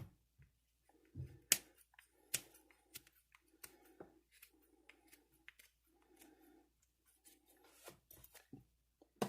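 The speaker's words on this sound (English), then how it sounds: "So we're going to take our scissors." Several short crisp snips and rustles as scissors trim a shotgun cartridge wad, close and quiet, with pauses between them and no talking.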